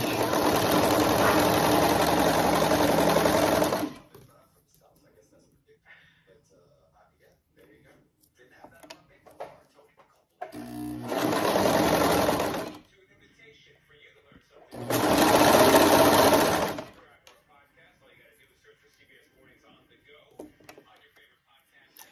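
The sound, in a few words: serger sewing fabric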